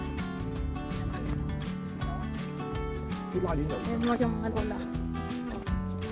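Insects, likely cicadas, chirp at Aberdeen Reservoir in Hong Kong, a steady high buzzing drone that runs throughout beneath someone talking and background music.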